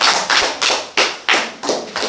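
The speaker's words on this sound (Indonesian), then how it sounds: "Tepuk tangan dulu untuk kita siap." A classroom group claps together in unison for a teaching-practice session in Merauke, producing seven loud, evenly spaced collective claps in a steady rhythm with no talk.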